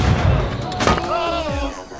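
A single sharp gunshot crack from the survival video game Rust, preceded by low rumbling and followed by a voice speaking over the fading tail.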